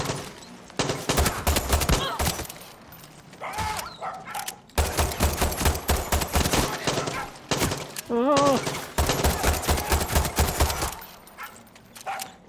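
Gunfire in the video game Far Cry 6, with repeated bursts and volleys of shots running loud through most of the span alongside excited talk from a player.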